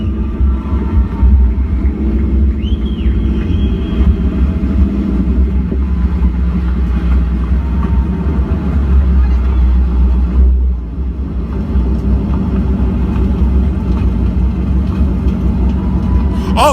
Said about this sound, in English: they're doing burnouts in the house